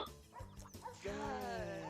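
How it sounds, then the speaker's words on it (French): Dog in The Sims Pet Stories video game barks and yips over game music, with brief voice sounds at the start. "Il est venu avec son chien, Bijou"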